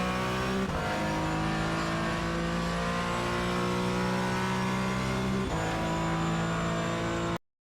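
Porsche 718 Cayman GT4 engine lapping Jerez in the iRacing sim, a loud, steady high-revving drone with harmonic tones climbing through the gears, two sharp shifts or braking drops along the way, then an abrupt cut to silence at the end.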